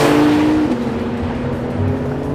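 A Porsche 911 Turbo S engine holds a loud, steady drone, up close and alone, with a brief rise in pitch near the start before it settles at a constant high note.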